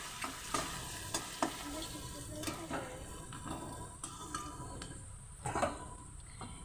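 Vegetables being stirred with salt and turmeric in a frying pan, with a soft sizzle and a rhythm of spatula clacks and scrapes against the metal, fairly quiet and close.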